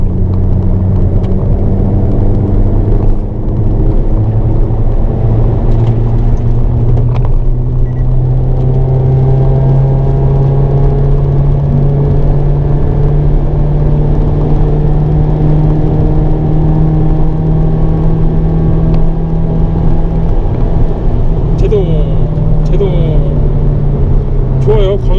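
A car on a race circuit during a track day roars loudly from inside the cabin, engine pitch climbing and falling through gear changes, with a person talking over the steady engine drone.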